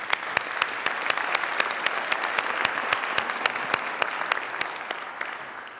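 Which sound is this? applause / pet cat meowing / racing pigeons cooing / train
applause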